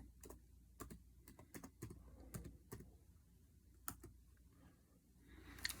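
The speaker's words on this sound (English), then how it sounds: "I'll type it in." Keys clack on a computer keyboard in short, uneven bursts with pauses between them, faint and close in a quiet room, with no one talking.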